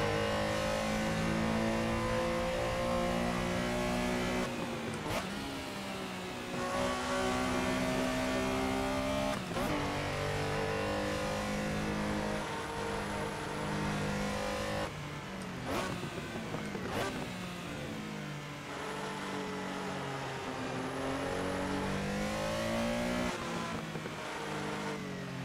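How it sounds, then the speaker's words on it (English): Porsche Carrera race car engine in the Assetto Corsa sim racing game on the Silverstone circuit, loud and continuous, rising and falling through gear changes with sharp shifts and repeated revving swells over a full lap. "You can listen to the car, and we'll see if I can get a decent lap in."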